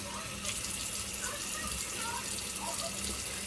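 Tap water runs steadily into a bathroom sink during face rinsing, a soft, even hiss of flowing water that stays faint and constant throughout.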